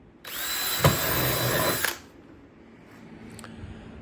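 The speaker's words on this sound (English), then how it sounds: "I'm gonna drill little bitty holes all the way around the circle" A power drill whirs loudly for under two seconds while drilling small holes around a circle in a waste basket for a DIY fish trap, then stops; a faint click follows in the quiet afterward.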